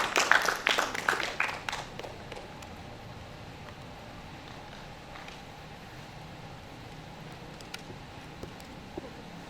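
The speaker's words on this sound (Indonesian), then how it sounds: "Kita berikan tepuk tangannya Bapak Rain Rosidi." Applause from an arts seminar audience welcoming a speaker, a brisk round of clapping over the first two seconds that quickly dies away into quiet room noise.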